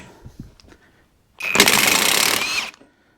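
A Hyper Tough 20V half-inch high-torque impact wrench set to 300 foot-pounds fires in one loud continuous hammering burst of about a second, preceded by brief quiet handling noises and ending abruptly.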